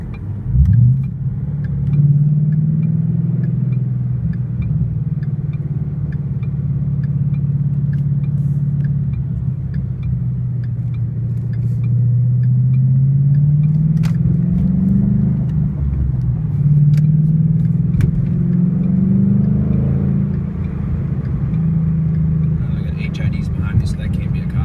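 Loud, steady low exhaust rumble from a 2012 Ford Mustang GT fitted with an MBRP Race Series cat-back exhaust, heard from inside while driving, with the drone swelling and easing through gear changes and brief revs for the whole stretch.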